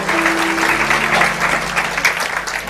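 Loud, dense applause from a seminar audience at a church-style teaching session, a steady wash of many hands clapping that holds strong for nearly three seconds over a faint low hum.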